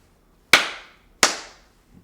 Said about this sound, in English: give me a clap